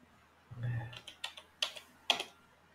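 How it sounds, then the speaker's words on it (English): A password is typed on a computer keyboard: a short run of about eight separate key clicks, close and fairly quiet, each one distinct. "type in your password."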